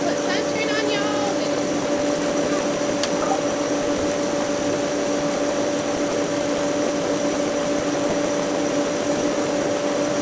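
A pool vacuum running in a backyard swimming pool, a loud continuous motor drone with a steady tonal whine and watery rushing, unbroken throughout, with a brief rapid clicking near the start.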